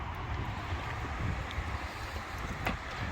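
Strong wind roars as a steady broadband rush with faint gusts, heard during cold, rainy weather outdoors with no one talking.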